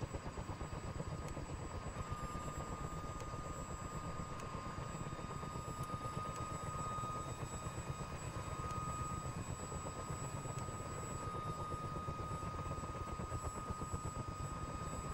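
Rapid, steady rotor chop and engine whine from a CH47 Chinook helicopter in a flight simulator game, holding a constant, moderately quiet level with a thin high tone above and no voices.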